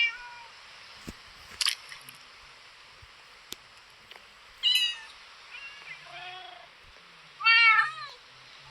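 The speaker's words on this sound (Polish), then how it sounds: "Mruczą jeszcze kotki" Several Minecraft cats meow in a video game, some calls high and drawn out, rising over a steady hiss of background ambience, with a few faint rustles and clicks between calls.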